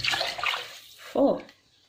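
Cold water is poured into rice for pilau, heard as a brief burst of splashing, running water mixed with a young voice speaking. It ends with a short, clear pour and then falls quiet.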